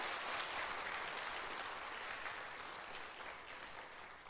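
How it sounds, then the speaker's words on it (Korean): A church congregation gives a missionary a sustained round of applause, steady dense clapping filling the room for several seconds and tapering slightly toward the end. "수고하셨습니다 하고 박수 한번 주십시오."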